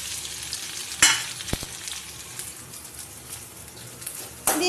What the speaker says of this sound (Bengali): এইগুলো আমি তেলের মধ্যে দিয়ে দিলাম।